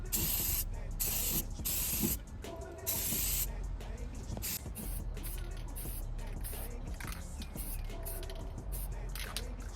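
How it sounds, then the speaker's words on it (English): A spray gun lays gray primer onto a Mazda Miata body, loud, close hissing bursts that start and stop in an irregular rhythm, pausing briefly between passes. "We're just coating everything with primer first."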